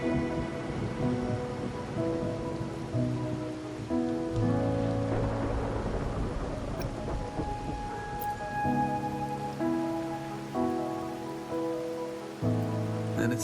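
Rain falls steadily on surfaces during a rainy night in the Wuthering Waves video game. It sounds under a bed of sustained musical tones, with no speech.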